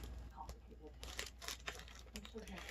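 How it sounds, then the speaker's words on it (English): Packaging is torn open by hand without scissors in a home kitchen, giving short crinkly ripping bursts in an irregular rhythm, close and fairly loud. "let me go ahead and open the packaging"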